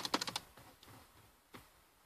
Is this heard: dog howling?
no